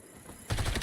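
Rapid automatic gunfire in the video game Black Ops erupts suddenly after a quiet lead-in, a loud, dense burst of shots.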